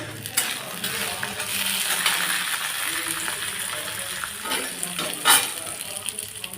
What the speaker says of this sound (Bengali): এই যে বড়ি ভাজা করতেছি এই যে মুসুর কলাইয়ের বড়ি